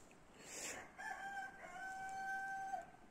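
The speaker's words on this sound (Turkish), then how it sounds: "Şu tarafta bir horoz var. Birbirleriyle ötüşüyorlar." A rooster crows in a village house garden, one long drawn-out call at moderate distance that holds for nearly two seconds, after a brief rustle and with no talking.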